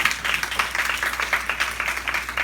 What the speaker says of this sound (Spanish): Dale un fuerte aplauso a todos.